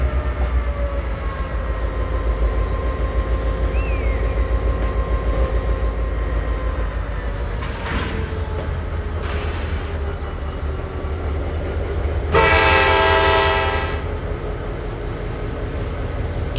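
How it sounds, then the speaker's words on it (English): A cargo train locomotive in Train Simulator rumbles steadily with a low engine drone and rail noise, its horn sounding in a loud sustained blast late on, with a fainter earlier hint. "Here comes our locomotive."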